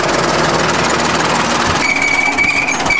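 An American-made 20-ton bulldozer rumbles loudly and continuously while driving forward, its engine a steady, heavy drone that gains a thin whine in its final second.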